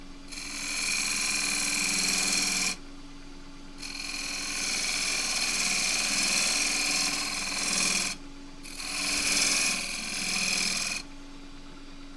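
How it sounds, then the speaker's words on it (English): Crossgrain wooden box blank turning on a wood lathe, cut by a 3/8 spindle gouge, giving a steady rasping, hissing scrape in three long passes separated by short pauses, close and fairly loud with no voices. "cut this with the 3/8 spindle gouge 3/8 flute"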